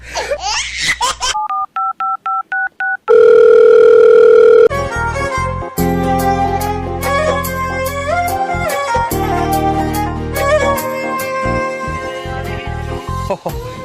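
A telephone call goes out: quick dial tones and keypad beeps, then a steady ringing tone, followed by loud laughter and voices over background music.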